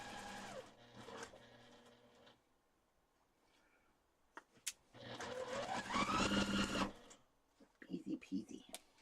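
A sewing machine stitches a Christmas quilt in a couple of bursts of fast, whirring mechanical runs with a rising motor pitch, separated by quiet gaps, ending in short clicking sounds.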